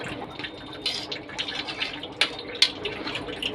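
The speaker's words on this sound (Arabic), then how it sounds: "هنا هنكمل ميه اهو. هنكمل ميه." Water splashes and trickles into a pot of rice close by, with gurgling bursts and a few sharp clinks, fairly quiet and unsteady.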